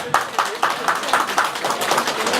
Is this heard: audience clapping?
yes